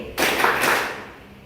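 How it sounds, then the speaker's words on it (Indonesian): A class of pupils in a lesson claps together in a short, concentrated burst of quick claps that lasts about half a second and then fades into the room. "Tepuk konsentrasi."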